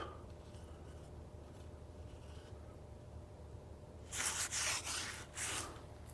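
A quiet background hum, then a few short bursts of hissing spray near the end, close by.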